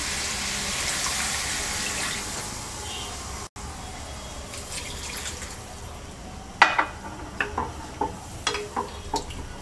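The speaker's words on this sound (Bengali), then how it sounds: "এবার ঝোলের জন্য 2 কাপ গরম পানি দিয়ে দিচ্ছি।" Two cups of hot water poured into a pan of boal fish and cauliflower curry, a rushing splash and hiss for a few seconds, followed by quieter bubbling with several sharp utensil knocks against the pan.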